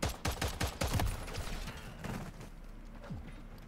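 Rapid bursts of automatic gunfire from a Cor-45 in a Call of Duty Modern Warfare 3 hardcore match, loud and close with tight repeated shots in the first half, then scattered fainter shots and rumbling fading into the background.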